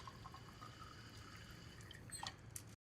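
A household tap with low water pressure lets out a faint, thin trickle of water with a few soft drips near the end, quiet and alone.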